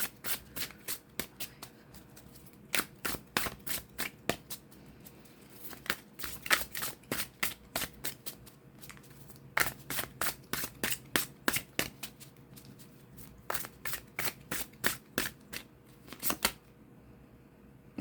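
Tarot cards shuffled by hand during a reading, a long run of crisp riffling bursts and rapid flicks repeating in quick clusters, close and clear with no talking.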